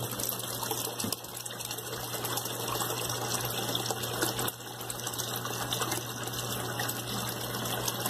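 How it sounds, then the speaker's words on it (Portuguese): An Electrolux LTC10 top-load washing machine fills with water for a load of bedsheets, a continuous rushing, gushing inflow with a low pump-like hum, steady and close throughout with no speech. "Ela vai completar o nível de água."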